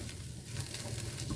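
Potato masala roasting in a hot pan for a breakfast dish, giving a steady, soft sizzle and frying crackle throughout with no talking.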